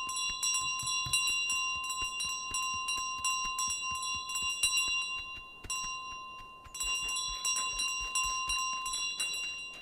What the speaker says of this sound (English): Why it has to be a bell?